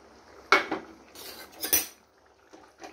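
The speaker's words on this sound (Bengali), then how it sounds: "আমি এবার মাছগুলো দিয়ে দিলাম।" Fish pieces go into a cooking pot for a Bengali fish curry, with a few sharp metallic clanks of utensil against pot separated by quieter pauses.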